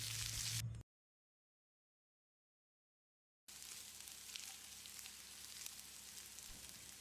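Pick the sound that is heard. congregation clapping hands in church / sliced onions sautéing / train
sliced onions sautéing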